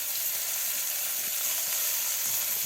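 Dried seafish with chopped onions, green chilies and ground spice paste sizzles in hot oil in a village kitchen: a steady, bright hiss of frying, fairly close and even throughout, with no voices.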